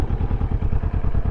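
Kawasaki Vulcan 650 parallel-twin engine running close up, an even rapid thumping pulse with a low rumble and slight clatter.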